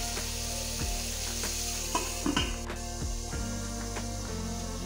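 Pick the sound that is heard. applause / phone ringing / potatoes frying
potatoes frying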